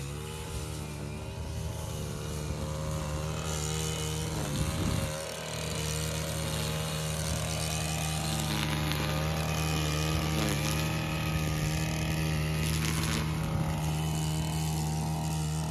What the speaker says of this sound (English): going with the weed trimmer